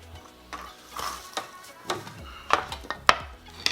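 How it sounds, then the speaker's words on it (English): Kitchen clatter as a hot cast iron skillet is taken from the oven, metal pans and utensils knocking and scraping, with several sharp clanks and a faint sizzle underneath, close by. "Taking out this hot pan."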